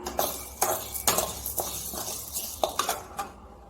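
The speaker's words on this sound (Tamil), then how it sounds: "அடுத்து துவரம் பருப்பு வறுத்துக்கலாம்" Toor dal dry roasting in a pan, with a series of sharp clinks and scrapes as a utensil stirs the lentils, irregular taps spaced a fraction of a second apart, close and fairly loud.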